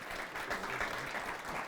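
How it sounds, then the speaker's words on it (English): A crowd at the North Hill Bowl alley in Minot, North Dakota, gives a steady burst of applause for the 2011 Morris Anderson Shootout bowling tournament winner. The dense clapping holds at an even level and is heard alone. "let's give him a round of applause"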